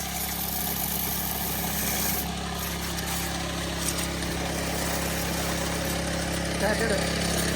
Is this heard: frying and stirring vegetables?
no